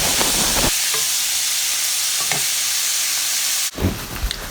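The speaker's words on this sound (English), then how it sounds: "While the meat is browning" Ground meat browning in a pan for a hearty spaghetti sauce, a loud steady hiss of frying filling the clip, broken by a few utensil scrapes and a clatter near the end.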